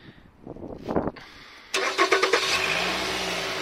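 A 2013 Renault Koleos with a 2.5L engine cranks briefly and then catches, firing up with a few rising pulses before settling into a steady idle nearby.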